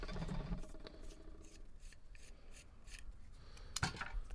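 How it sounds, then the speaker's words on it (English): A copper pipe is cut by hand for a piece of found-object art, producing close, dry rasping and scraping strokes that end in a sharp click, with no one speaking. "I'm getting ready to cut that pipe"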